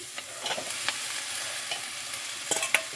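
Okra tossed into sautéing onion and chana dal in a pan sizzles steadily, with several sharp clicks and scrapes of stirring close by.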